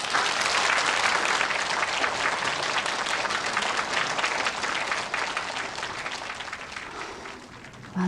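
An audience at the Morocco film festival bursts into sustained applause for a speaker taking the stage, a loud dense patter of many hands that slowly thins and softens toward the end.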